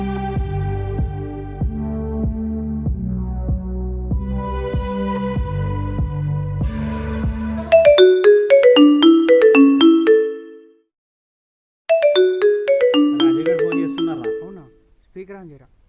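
A phone call to friends rings out: a low repeating ringback pulse for several seconds, then a bright melodic ringtone plays in two loud bursts separated by a short silence, with no voices.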